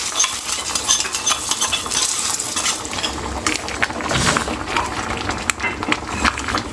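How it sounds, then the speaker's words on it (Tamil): A Tamil home kitchen pot of food is stirred as it boils, with busy scraping and clinking of a utensil against the pot over a steady bubbling, sizzling hiss that stays close and fairly loud throughout. "வந்து நல்லா கொதிச்சிட்ருக்குது"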